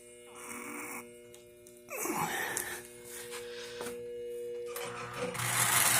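Marx 21 Santa Fe diesel toy train with a newly fitted headlight and a repaired bent rear axle, running on track with a steady mechanical whir and hum that swells louder as the engine rounds the layout.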